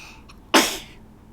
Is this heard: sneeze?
yes